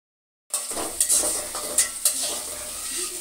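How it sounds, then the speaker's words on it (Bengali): Potato chips fry in a pan, a steady sizzle that starts abruptly, with a few sharp scrapes and clinks of a utensil stirring against the metal, close and moderately quiet. "ভাজাভাজির কাজ চলতেছে এখন"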